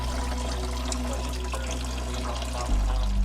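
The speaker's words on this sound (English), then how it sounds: "Next, we remove our lower hose and allow the coolant to drain out." Coolant pouring out of the removed lower radiator hose on a 2004 Chevy Avalanche with a 5.3 Vortec V8, a steady close liquid gush and trickle under a low hum, with no talking.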